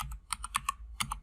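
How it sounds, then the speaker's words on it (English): A new computer keyboard clatters under quick typing: a close run of sharp, crisp key clicks in two short bursts separated by a brief pause. "I have a new keyboard."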